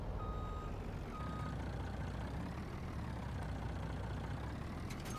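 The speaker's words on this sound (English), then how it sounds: "Back up the old Kenworth here and we'll head her up to the shop" Kenworth truck in Farming Simulator 19 reversing, its backup beeper sounding in regular pulses over a heavy, steady low engine rumble.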